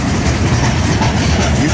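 Freight train with DPU locomotives, including DC and AC units, rolling past on a rail line near Harrisburg, with a loud, steady low rumble and engine drone that continues without a break.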